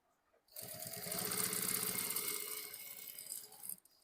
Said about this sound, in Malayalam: എന്നിട്ട് പതുക്കെ ഇത് ഒരേ ലെവലിൽ പതുക്കെ സ്റ്റിച്ച് ചെയ്യാം.